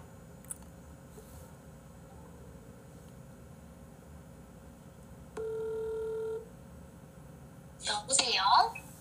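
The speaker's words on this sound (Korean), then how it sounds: "전화를 좀 해서 좀 들어보자고?" A phone call being placed during a live broadcast: a faint click, then a steady dial tone lasting about a second, followed by a short burst of ringing or line noise near the end over quiet background hiss.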